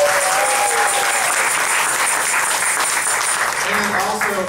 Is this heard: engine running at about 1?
no